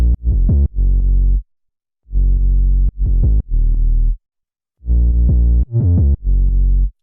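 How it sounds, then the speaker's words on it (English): A deep sine wave sub bass with distortion pulses in a rhythmic jump up drum and bass pattern, each note swelling in and cutting off in a sidechained pumping groove, loud and alone. "It's just a sine wave with some distortion on it"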